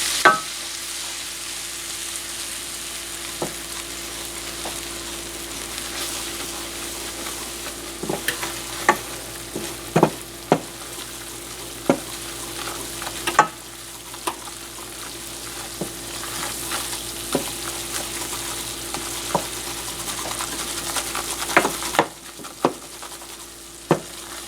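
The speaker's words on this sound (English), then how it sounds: "3 tablespoons of flour to make a roux" Flour being stirred into fat in a pan to make a roux, with a steady soft sizzle under repeated scraping and clicking strokes of a utensil against the pan, close and moderately quiet, no talking.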